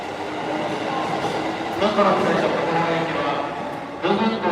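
A commuter train runs past at a Japanese station between Ikebukuro and Kumagaya, a steady close rumble of cars with brief brighter rattles near the end as the last car goes by, while someone talks over it.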